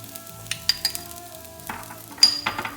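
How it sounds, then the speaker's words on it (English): A spoon stirs a sizzling mixture with chili flakes and ground cumin in a hot pan, producing soft frying hiss broken by scraping strokes and a few light metallic clinks, close and with no talk. "just give it a nice little stir, and we'll just keep sauteing all of this mixture together"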